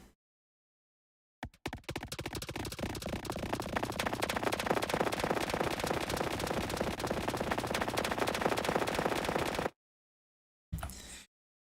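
Reason RV7000 reverb using its MultiTap algorithm on a texture effect, a dense, rapid rattling burst of repeating taps that runs steadily for several seconds, stops, then returns briefly.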